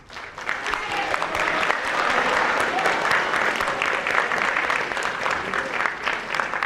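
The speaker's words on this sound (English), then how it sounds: "Delegates, can we get another round of applause for every single candidate here?" Applause from delegates at a student council presidential and vice presidential debate, a dense crowd of clapping that swells quickly and stays loud and even to the end.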